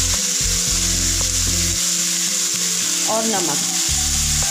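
Mixed vegetables fry in oil with turmeric and salt, a loud, continuous close-up sizzle running throughout over background music, with a brief spoken word.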